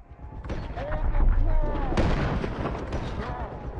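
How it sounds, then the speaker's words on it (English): Gunfire in the video game GTA 5 Online, a run of sharp, loud booming shots in quick succession that overlap and ring out, with some voice activity mixed underneath. "Still shooting out of range."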